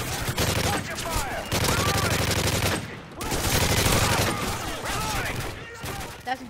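Rapid automatic gunfire from Call of Duty: Modern Warfare 3 Spec Ops rattles in long sustained bursts, loud and near, broken by a brief pause, with players talking over it.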